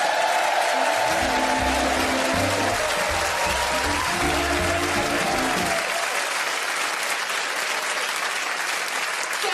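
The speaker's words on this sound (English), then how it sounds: "Applaud like you've never applauded before" A studio audience gives loud, sustained applause for the host of a TV comedy show, dense clapping and crowd noise throughout, with a brief musical sting underneath early on before the clapping continues alone.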